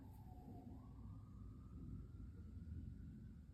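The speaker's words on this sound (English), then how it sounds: "I'm also hearing a police car" A police car siren wails faintly in the distance, a thin rising tone drifting over a steady low rumble of background noise, with no talking.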